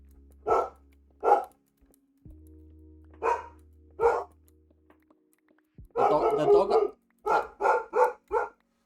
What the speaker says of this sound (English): a dog outside barked, and now they're going crazy